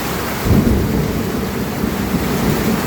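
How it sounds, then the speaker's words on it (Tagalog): Heavy rain pours steadily throughout a storm in the Philippines, with low rolling thunder rumbling beneath the downpour; close, loud and continuous with no talking. "Grabe, lakas ng ulan."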